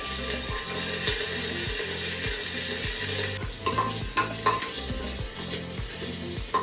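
A tempering of curry leaves and green chilli with ginger and garlic sizzles loudly in a pan while a spoon stirs it in quick, regular scraping strokes, the rhythm loosening in the second half, close up and without speech.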